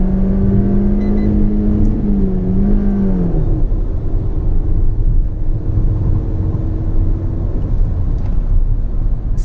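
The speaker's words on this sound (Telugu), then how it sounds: "టైర్ అయితే క్లియర్గా మనకు స్పిన్ అవుతుంది" A Toyota Urban Cruiser accelerating hard from 0 to 100 with its tires spinning, the engine note climbing and then droning under a loud steady road and wind rumble, with no talk.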